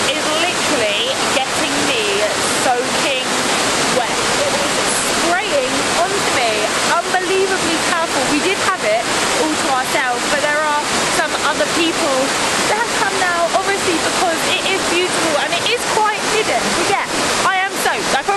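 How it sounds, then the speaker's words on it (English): A tall waterfall about 16 meters high in Goris, Armenia, roars steadily and loudly up close, a dense continuous wash of falling water with a person talking over it. "I didn't expect waterfalls like this in Armenia"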